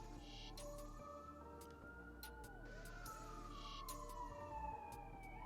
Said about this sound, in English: You hear that ambulance?